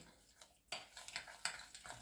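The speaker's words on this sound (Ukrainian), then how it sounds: "спочатку ложкою собі розмішую" Light scraping and clinking of a spoon stirring sugar in a bowl, quiet at first, then a run of small taps and scrapes close by.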